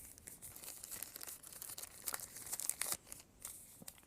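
Crinkling and tearing of smartphone packaging during an unboxing of phones such as the Jelly 2 and Moto G100, a run of soft, close rustles and rips with no talk.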